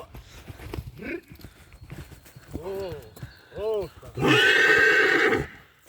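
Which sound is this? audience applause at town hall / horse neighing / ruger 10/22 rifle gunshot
horse neighing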